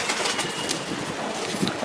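Small female pigeons coo softly and continuously at close range, a low murmuring call over faint background rustle.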